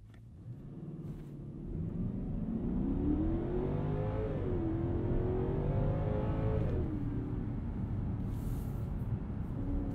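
A 2020 Genesis G90 launched at full throttle with traction and stability control off, its engine note rising steadily under hard acceleration, a sustained loud roar with climbing harmonics and a brief dip as it shifts.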